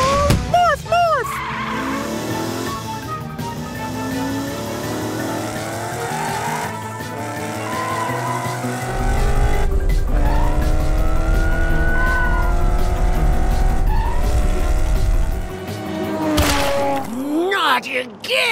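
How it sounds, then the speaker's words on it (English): In a children's cartoon, a character morphs into a race car, and a loud engine roars with squealing, skidding tires and swooping whooshes. Bright cartoon effects come over a steady, heavy low rumble for most of the clip. "Morphle, morph into a race car so we can catch Orphle."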